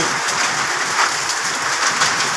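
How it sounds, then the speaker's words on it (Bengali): Rain mixed with hail falls over the Mohanganj area of Bangladesh, a loud, dense and continuous patter with no pauses and no voices. "শুধু শিলা বৃষ্টি হচ্ছে"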